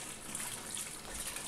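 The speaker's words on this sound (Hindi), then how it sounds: "इसमें पानी डाल के देखते हैं कि एग्जैक्टली पानी आता कहाँ से" Water from a pipe running into a semi-automatic washing machine tub, a soft continuous hiss and trickle at low level, steady without breaks.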